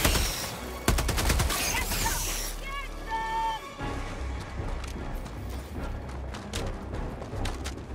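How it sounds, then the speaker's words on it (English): Machine gun fire in the video game Helldivers comes as rapid clattering bursts early on, then sporadic distant shots and impacts over a rumbling battle background, with a few chirping game tones in between. "Oh, this guy has a machine gun."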